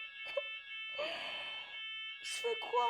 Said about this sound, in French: Pourquoi l'alarme elle sonne?